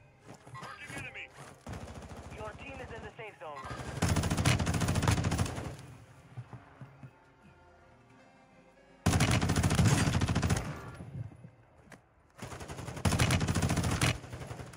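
Sustained bursts of automatic gunfire in a Warzone match on the Vondel map, loud and dense in three long volleys separated by quieter stretches, with a voice talking during the lulls.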